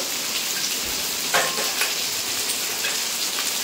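Peeled amla (Indian gooseberries) fry in oil with turmeric, a loud dense hiss of sizzling with a couple of brief clinks from a spoon, close, no talking.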